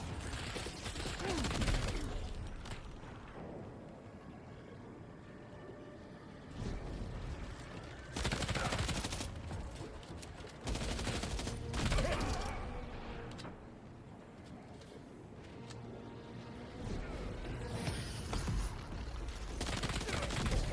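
Gunfire from a weapon in Death Stranding 2 comes in several bursts of rapid shots separated by short lulls, set against a busy combat soundscape at moderate loudness.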